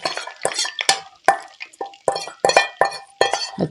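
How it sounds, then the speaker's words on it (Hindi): Eggs dropping into hot oil in a pan for a macaroni dish, giving a run of clinks, stirring scrapes and sizzle bursts at close range, with no talk. "ये हम अंडे इसमें डाल देंगे"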